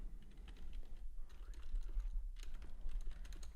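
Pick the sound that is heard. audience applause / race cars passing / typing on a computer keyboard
typing on a computer keyboard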